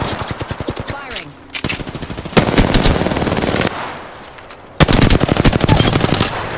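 Rapid automatic gunfire in the battle royale game Apex Legends, loud and close, coming in several sustained bursts separated by brief pauses, with the dense rattling shots filling most of the stretch.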